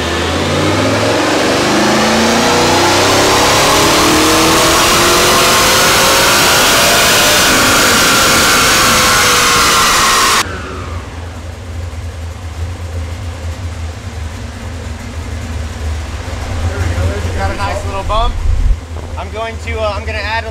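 A 1969 Camaro's LS3 V8 on a dyno roars and revs steadily for about ten seconds, then cuts to a lower idling rumble with a brief burst near the end.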